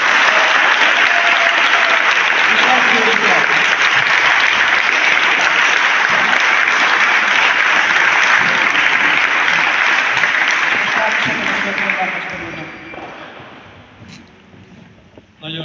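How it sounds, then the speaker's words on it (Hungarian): A large audience at the opening ceremony of a national boccia championship gives sustained loud applause for two Paralympic athletes, steady for about twelve seconds before fading out near the end. "szeretném azt kérni, hogy egy közösen tapsoljuk meg a két paralimpiai kiutónkat, Szabó Alexandrát és Nagy Vivien"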